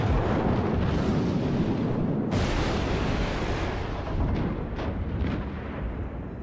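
Battleship main gun turrets in World of Warships, a low-tier US Navy battleship, fire shells in a loud, sustained rumbling barrage with a sharp fresh blast partway through, then continued heavy booming.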